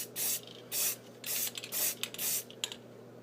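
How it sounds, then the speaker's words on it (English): Spray paint hisses onto a Hot Wheels toy car in short bursts, four or five distinct puffs of close, bright aerosol spray separated by brief pauses and a low background hum. "If you spray too heavy, you will get runs in it"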